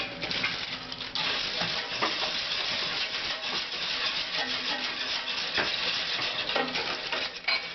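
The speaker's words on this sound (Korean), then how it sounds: "이 덩어리가 이렇게 녹을 때까지 저어야" Homemade laundry soap mixture being stirred so its lumps melt, giving a continuous close scraping and sloshing with frequent utensil scrapes against the container, fairly loud and steady throughout.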